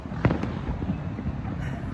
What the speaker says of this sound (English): I guess the fireworks meaning that it's over.